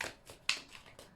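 Tarot cards being shuffled by hand: a few quiet, soft riffling swishes and flicks in quick succession, close and faint, with one sharper snap in the middle.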